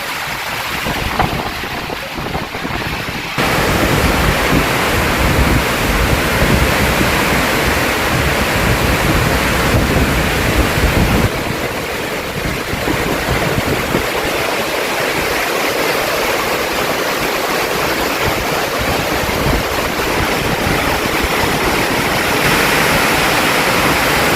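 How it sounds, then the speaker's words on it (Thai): Strong storm wind during a rainstorm on a road trip in Thailand: a loud, continuous rushing roar of gusting air that barely lets up, with surges and slight shifts in intensity and no voices. "ลมแรงขนาดเลย"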